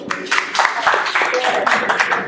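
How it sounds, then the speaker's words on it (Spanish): An audience at a book fair talk applauds for author Elsa Osorio, brisk rapid clapping from a room full of people with voices mixed in. "un aplauso para Elsa Osorio"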